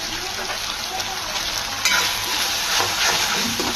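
Tomatoes added to onions and ginger-garlic paste in a home kitchen pan, a loud steady sizzle with a sharp burst partway through as they hit the hot oil, then continued frying and stirring.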